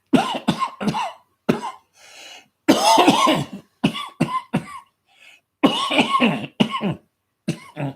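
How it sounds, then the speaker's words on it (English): Repeated harsh coughing fits, close and loud, in bursts separated by short silences, with some throat clearing. "I can't cough that much."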